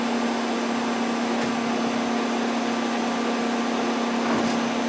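A Sunnen SV-3 vertical two-stage honing machine runs with a loud, steady mechanical hum and broadband whir, holding an even level throughout with a faint click near the start, with no voices.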